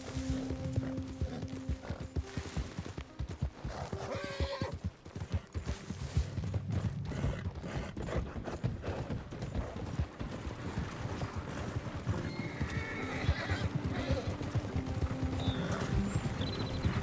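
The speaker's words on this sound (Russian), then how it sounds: "Давай, лошадка, давай." Horse hooves clip-clop at a gallop in Red Dead Redemption 2, a steady drumming of hoofbeats with occasional whinnies over busy game sounds and a constant ambient bed.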